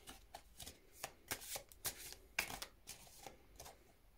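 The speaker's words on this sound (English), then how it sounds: "I'm going to pull three more cards." Oracle cards being shuffled by hand, a quick series of soft riffling bursts and papery slaps in an uneven rhythm, close and fairly quiet with no talking.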